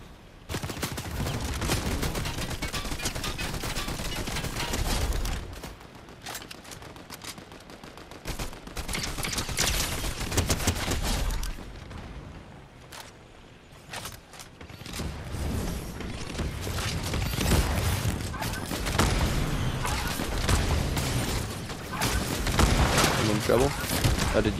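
Gold combat shotgun fire in Fortnite mixed with other gunfire, repeated heavy blasts and crackling bursts through a long battle stretch, with players talking over parts of it.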